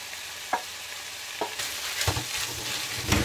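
Onion with green and red peppers tipped into hot oil for a stuffed aubergine filling, a few soft thuds of vegetables landing, then a rising crackling fry that grows busier toward the end, close and without talk.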